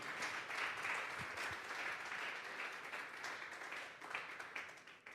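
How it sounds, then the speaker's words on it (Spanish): A church congregation at a Sunday service claps loudly together, a dense, sustained wash of applause that continues steadily throughout with no one speaking over it. "Fuertes esas palmas para Dios en esta tarde."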